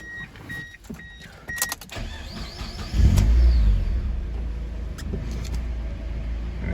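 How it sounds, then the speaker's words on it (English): A few clicks and a whir, then a Mazda Miata engine cranks and catches with a loud burst, settling into a steady low idle nearby. "I'm gonna fire up the car right now"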